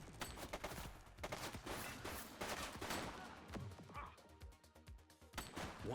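Gunfire in a cutscene from The Precinct, heard as loud, irregular shots and bursts at close range with impacts mixed in. Shouted voices sit among the shots.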